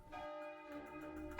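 Church bells of San Marcos in Venice ringing, a rich sustained peal with layered overtones, clear and resonant, with a fresh strike at the end.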